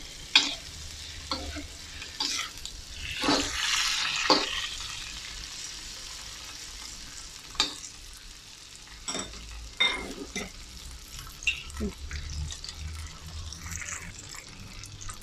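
Egg tofu fries in a pan over low heat while being stirred, with intermittent scraping strokes over a continuous sizzle and a few clinks.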